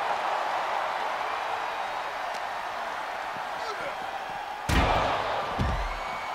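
Ambulance doors slam shut with a heavy double thud in a WWE 2K24 ambulance match, two sharp bangs near the end over steady crowd noise and commentary.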